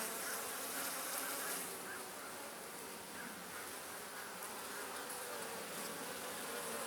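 Honey bees buzz continuously around an opened hive in a struggling colony heading into winter, a dense steady drone close by with no voices.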